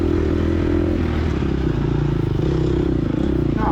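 A dirt bike engine drones steadily and loudly during a harescramble race, holding a fairly constant pitch with rattling clatter from the bike, recorded close from the rider's position.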